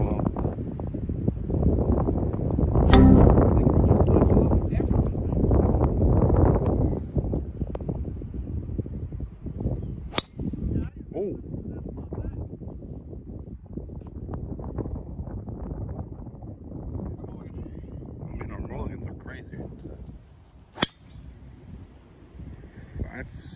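Outdoors, wind buffets the microphone in rumbling, uneven gusts that slowly ease over about twenty seconds, broken by a few sharp clicks.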